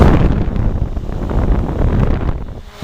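A powerful electric fan runs at high speed, a dense, loud broadband whoosh and rumble that holds steady for nearly three seconds before easing slightly at the end.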